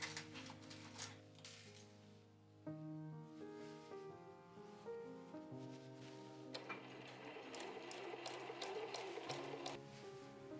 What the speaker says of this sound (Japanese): まずは入れ口をこのように折って縫います。